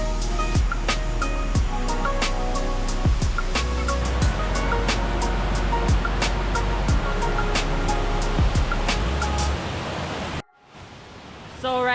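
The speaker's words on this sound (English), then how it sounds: "So right now I'm at the first level, the waterfall 1." A waterfall at the first level of a seven-tier cascade in Thailand roars as a loud, steady rush of water, with sharp clicks and knocks over it before the sound cuts to quieter ambience near the end.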